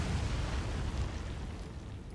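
A torpedo strikes a ship in the naval combat game War on the Sea, giving a heavy, low, rumbling blast that fills the whole stretch and slowly fades without a break.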